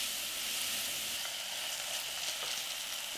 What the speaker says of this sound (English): just stir fry spinach for a minute